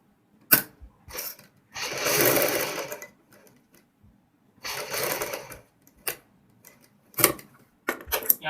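A sewing machine stitches kurti fabric in several separate bursts, some long and some brief, with quiet pauses between runs.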